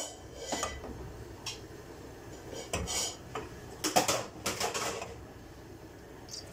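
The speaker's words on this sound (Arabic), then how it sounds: "هحط الحله حطيت فيها معلقه سمن على حبه زيت" A metal cooking pot is set on a stovetop and a spoonful of ghee is added with a little oil, producing faint clinks, taps and scrapes of metal in a quiet kitchen.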